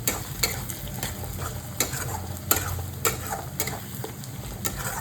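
Onions and tomato frying in a pan for mutton curry, with a steady close sizzle and repeated scraping stirs from a spatula, and no talking.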